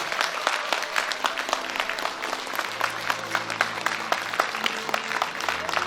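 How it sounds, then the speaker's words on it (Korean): An audience at a Gyeyang-gu residents' town-hall meeting with Incheon Mayor Yoo Jeong-bok applauds warmly. Dense, continuous clapping from many hands holds steady for several seconds at moderate level, with no voices over it. "뜨거운 박수로 맞아주시기 바랍니다."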